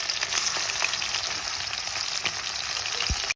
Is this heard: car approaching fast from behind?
no